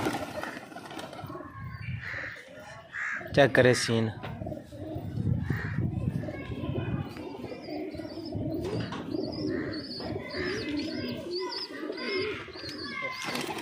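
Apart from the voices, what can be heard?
pigeons cooing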